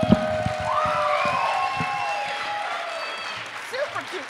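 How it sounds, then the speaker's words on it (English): A comedy audience applauds as a comedian is introduced, a steady wash of clapping with a siren-like whistle or tone gliding over it. "Please, huge round of applause for Michael."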